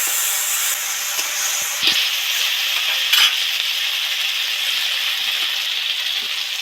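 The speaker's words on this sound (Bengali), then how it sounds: "দু চার মিনিট মেরে ঢাকা দিয়েছিলাম কত সুন্দর সব সব করে ভাজা হয়ে গেছে" Kulekhara greens and mixed vegetables fry in a pan with a steady, close sizzling hiss throughout, broken by a few brief clinks of stirring.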